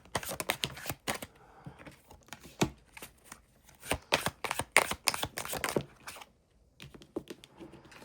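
Oracle cards are shuffled and handled in quick, irregular bursts of crisp clicks and riffles, close and alone, with brief pauses between runs.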